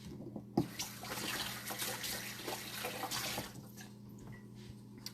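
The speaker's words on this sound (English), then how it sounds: "Wash my hands again." A tap runs as hands are washed, a soft steady splashing stream that stops near the end, leaving a few faint drips and knocks.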